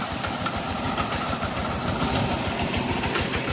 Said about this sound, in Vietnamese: Máy chạy êm nhá.